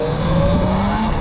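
An electric dirt bike's throttle is blipped in a short burst, giving a close, loud motor whine that rises and falls in pitch.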